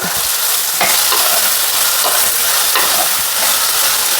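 Green chillies and fish masala sauté in a hot pan for a fish moppas, giving a loud, continuous sizzling hiss with occasional stirring scrapes close by.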